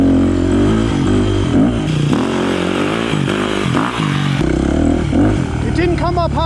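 A four-stroke dirt bike engine revs hard and loud up close for a wheelie, rising and falling in pitch through several throttle blips, with someone talking over it.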